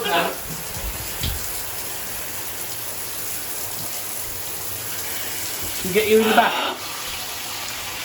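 Water hissing steadily from a shower head while a parrot is being washed, a continuous spray noise throughout, with brief bursts of talk over it.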